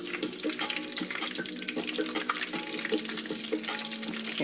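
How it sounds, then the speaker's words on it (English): Chicken pieces frying in hot oil crackle and pop steadily, a busy continuous sizzle with scattered sharp spits, close by and fairly loud. "They start to sizzle up nicely."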